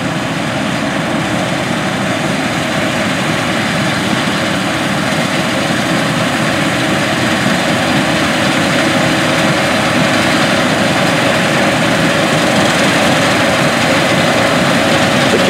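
A Case IH 9240 combine harvester with a 3162 TerraFlex draper head cutting crop drones continuously at a steady, loud level with a broad mechanical rumble and no pauses or voices.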